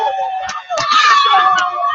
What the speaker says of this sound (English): Listen to the scream of the fans.